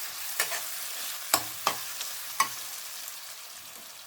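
Fresh turmeric root sautéing in a pan for pickle, a soft steady sizzle with a few sharp scraping stirs spaced a second or so apart.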